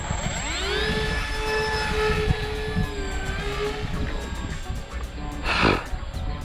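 A small radio-controlled model airplane's propeller engine whines steadily, rising and falling in pitch as it passes, with wind noise and brief outdoor voices underneath.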